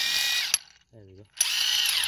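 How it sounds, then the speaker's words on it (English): A ratchet clicks rapidly and close up while loosening the 27mm drive shaft main nut on a VW, with a dense whirring run, a brief pause holding a short tonal squeak, then more ratcheting. "Now we're gonna remove the drive shaft main nut,"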